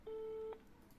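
A single short telephone tone on a call, a steady electronic beep lasting about half a second over faint background hiss.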